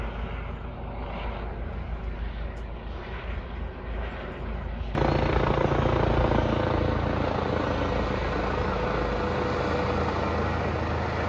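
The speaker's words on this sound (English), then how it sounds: "Police helicopter flying over the school." A police helicopter drones steadily overhead above a school; halfway through the rotor noise abruptly grows louder and fuller, then holds at that level.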